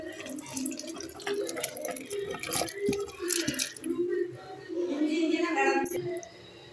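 Water is poured into a cooking pot of mutton, giving a close, uneven splashing and trickling that rises and falls, with a voice speaking over it.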